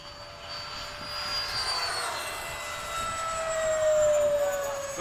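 An FMS F/A-18 radio-controlled model jet with electric ducted fan passes overhead at a flying field, a steady loud whine rising and shifting in pitch as it flies by, with no talk.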